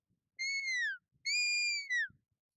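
A shepherd's sharp sheepdog whistle command for turning right: two long descending whistled notes followed by a short clipped third note, clear and close against silence.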